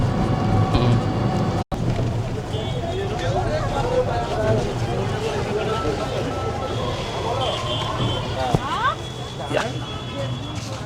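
A toto e-rickshaw ride away from a hotel in Mandarmani, with a continuous rumble of motor and road noise plus wind, a few faint horn-like tones, and a person talking over the ride.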